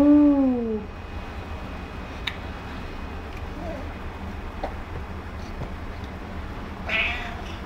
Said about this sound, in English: Ooh, it's the cat.